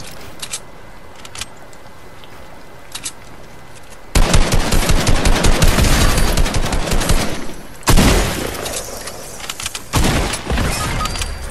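Gunfire in Fortnite: a quiet stretch with a few faint isolated shots, then loud rapid automatic bursts that pound steadily, pause briefly and resume, with no talking over them.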